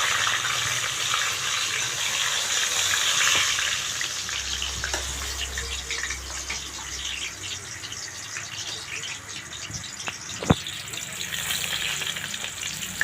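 Cinnamon and bay leaves temper in hot oil at the start of a mutton curry, giving a continuous close sizzle with a sharp click near the end.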